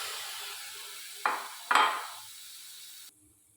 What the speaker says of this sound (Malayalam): അപ്പോൾ അത് ഇളക്കി